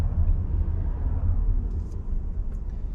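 A 2021 Toyota Kluger hybrid runs on its electric motor, giving a steady low road and cabin rumble with no engine note, heard from inside the car.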